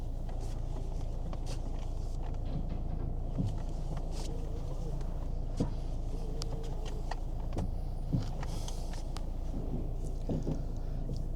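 A Kia Ceed engine idles with a steady low rumble, interspersed with faint clicks and ticks throughout, heard up close.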